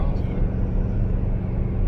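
A Ford F-150 V6 with a 10-speed transmission accelerates in sport mode and two-wheel drive, heard from inside the cab as a steady, moderate low engine drone without any talk.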